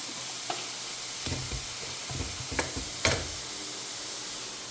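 A spoon stirring vegetable cutlet mixture made with banana flower in a pan, a few soft scraping strokes and light clicks over a faint, steady sizzle.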